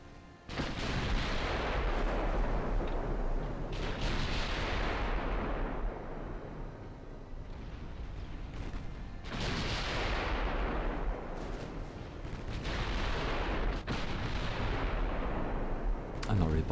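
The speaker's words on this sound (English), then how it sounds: "There's the bracketing shots, and there's the accurate shot." Naval guns fire repeatedly in the warship game Ultimate Admiral: Dreadnoughts, with several booming salvos, each fading into a long roar and rumble, while a voice talks faintly beneath.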